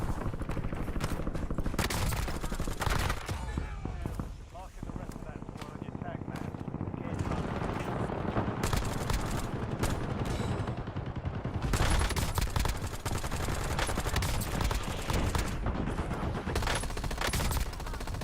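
Gunfire from a light machine gun in a Call of Duty match, set on Rebirth Island, comes as dense repeated bursts mixed with other shots and explosions, with a voice talking over much of it.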